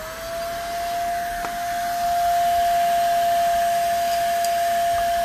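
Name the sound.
Simplicity Sport vacuum cleaner running with an attachment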